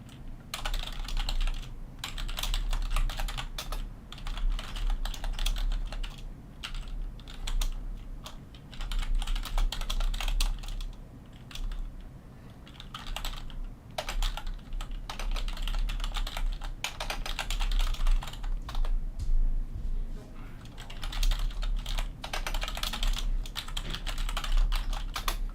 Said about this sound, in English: Let me just quickly finish typing this.